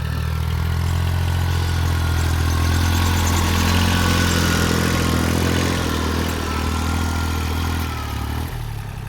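A 22-horsepower three-cylinder, rear-wheel-drive farm tractor engine runs steadily, a loud, close, continuous low drone that dips slightly near the end.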